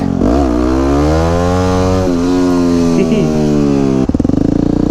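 A supermoto race motorcycle engine revs loud and close, rising in pitch and holding a high buzzing drone before dropping off abruptly, then idling in rough pulses, with no talk.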